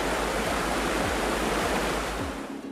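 Ice-cold valley water rushes at the Yongdae natural recreation forest in Gangwon-do, a close, loud, continuous hiss of flowing stream with no voices, easing slightly at the end.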